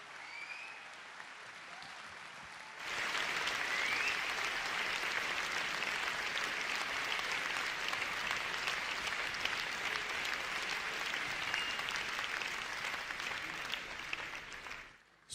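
A political rally crowd bursts into sustained applause after a quiet lead-in, a dense, even roar of clapping from a large audience that holds steady for over ten seconds before fading at the end.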